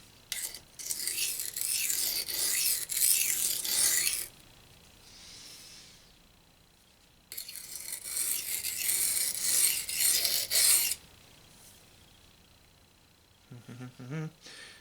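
A knife blade drawn across a coarse sharpening stone in single long strokes, two sustained gritty rasping passes of about four seconds each, close and clear, separated by quiet pauses, with a short scrape near the end.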